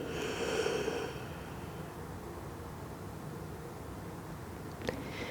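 A single soft, breathy exhale during a slow yin yoga session, quiet and close, fading into stillness, with a faint tap or click a few seconds later.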